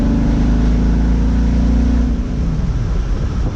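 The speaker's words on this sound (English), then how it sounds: "for some reason, it doesn't really sound like a Corvette. It kind of sounds more like a truck to me." A Corvette's 6-liter V8 revs hard on a dyno, a loud, deep, steady engine drone close up that holds high and then eases off near the end, with no talking.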